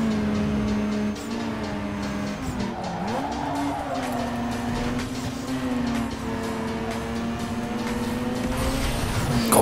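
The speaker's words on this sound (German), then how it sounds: "Zweimal Wankelmotor gegen zweimal V8." Racing car engines, two Wankel rotary cars against two V8 muscle cars, in the game NFS Underground 2: a steady, loud engine drone that dips and rises through gear changes, with a whining tone sustained over the run.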